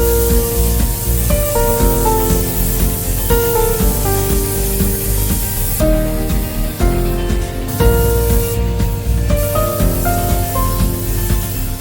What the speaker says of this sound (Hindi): इसमें थोड़ा सा मोबिल ऑयल और थोड़ा सा डीजल ऐसा इसमें भर के डालेंगे और फिर इसका स्प्रे करेंगे गाड़ी के नीचे